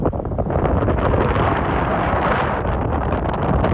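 Strong wind buffets the microphone at an open, stony search site, a loud continuous roar with gusting rumble and no voices.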